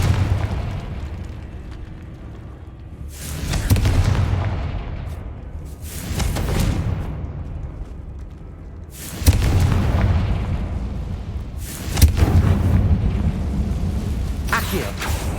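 The Confringo blasting spell in Hogwarts Legacy erupts in several heavy booming explosions, spaced a few seconds apart, each followed by a rumbling decay.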